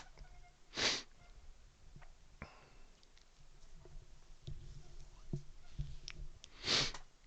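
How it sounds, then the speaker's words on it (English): Two sharp, loud sneezes about six seconds apart, with quieter sniffs and small clicks and rustles in between, close to the microphone with no talking. "Yikes, sneeze attack."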